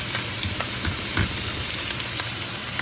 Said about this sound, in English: I'm just gonna let this cook until it turns golden on the skin side